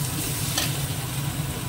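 Grated onion hitting hot oil with cumin in a pan, a dense, loud, steady sizzle with a brief surge of spitting early on, close up and without speech.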